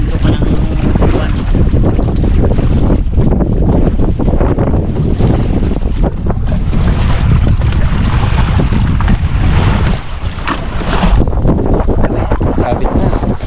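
Strong wind roars across the microphone on a moving boat, a loud, steady rush that blankets everything for the whole stretch with only brief dips in force.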